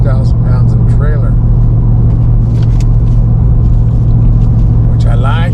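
A 2023 Ford Raptor R pickup cruises at low revs while towing an 8,000-pound trailer, a loud, steady engine and road rumble filling the cab, with a voice speaking briefly over it.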